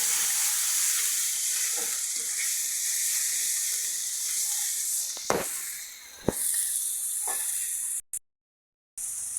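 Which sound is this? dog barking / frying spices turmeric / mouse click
frying spices turmeric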